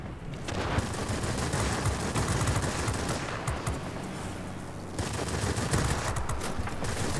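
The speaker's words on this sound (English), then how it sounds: "I like to think these 20mm cannons can do some work." Rapid 20mm cannon fire from an S-199 fighter in the World of Warplanes video game rattles out in dense, continuous bursts, loud and close, with a brief break near the middle before the firing resumes.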